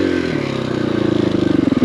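A KTM 500EXC-F dirt bike engine chugs close by at low revs, its deep thumping pulse speeding up into a rhythmic, throaty beat as it pulls.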